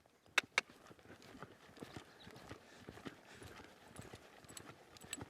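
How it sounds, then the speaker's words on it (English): Hooves of a horse picking up a canter on the right lead in an arena, a pair of sharp loud footfalls near the start followed by a quicker rolling clip-clop rhythm at moderate distance. "Let's watch this canter departure."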